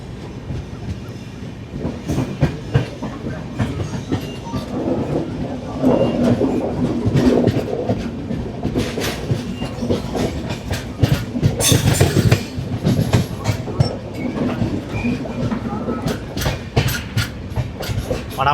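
A Palnadu SF Express made up of new LHB coaches is moving on the Vikarabad to Guntur route. Its loud, continuous rumble is broken by rhythmic clickety-clack, sharp wheel clatter and occasional squeal, and no voices are heard.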